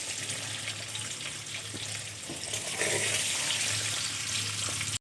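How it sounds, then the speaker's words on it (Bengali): Eggs sizzling in hot oil in a pan while being fried golden for an egg and cauliflower curry, a steady dense crackle and hiss running throughout at close range. "ডিমগুলো খুব সুন্দর করে লাল লাল করে ভেজে নিয়েছি।"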